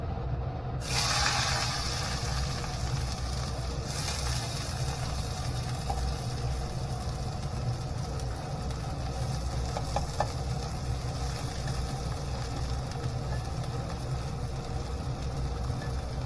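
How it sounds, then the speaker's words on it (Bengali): Pieces of bitter gourd fry in a pan for Bengali shukto, giving a steady, fairly loud hiss that holds evenly from start to end with no talking. "এরপর করলাগুলো দিতে হবে ভাজতে"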